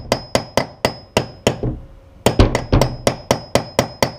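A hammer strikes an anchor bolt being driven into a concrete wall for cabinet installation, a series of sharp, evenly spaced metallic knocks, close and loud, with a brief pause midway before the blows resume.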